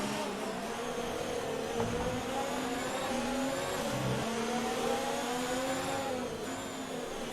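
Ferrari Formula 1 car racing in F1 2019 at Singapore: a steady high-pitched engine whine with rising and falling harmonics as it shifts and revs, loud and continuous throughout.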